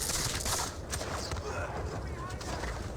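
Skirmishers exchange musket counter fire in a Napoleonic strategy game of the Battle of Eylau: a steady, dense crackle of scattered shots and distant volleys that continues throughout.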